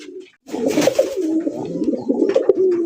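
Colored Rasgolla pigeons kept for sale coo close by: a brief low note, then a continuous throaty, rolling coo that swells and wavers for over two seconds, loud and near.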